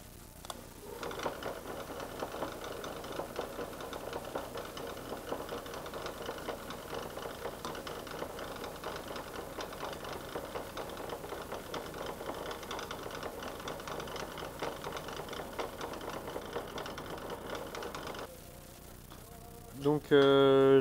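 A drill bores the pivot hole in a Damascus steel folding knife with a steady mechanical whir and chatter that holds for most of the time, then stops, followed by a few louder knocks near the end.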